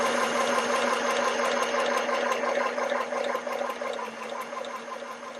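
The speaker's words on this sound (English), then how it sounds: "I sew a straight stitch." A Singer M1000 sewing machine runs a straight stitch steadily, its needle clattering in a fast, even rhythm with a mechanical hum underneath, close and continuous with no talking.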